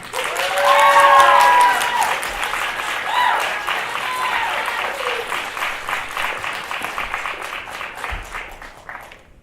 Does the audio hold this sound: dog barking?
no